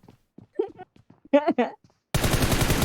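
Video game gunfire from a hide-and-seek match, a dense, loud burst of rapid automatic shots that starts abruptly after several seconds of sparse, quiet talk.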